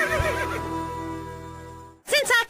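A horse neighs loudly in a whinnying call on the K-Rose country radio station in GTA San Andreas, a single long whinny that fades out before a voice starts speaking.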